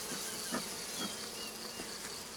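Honeybees hum in a soft, continuous drone at an open hive, with a few individual buzzes passing close by.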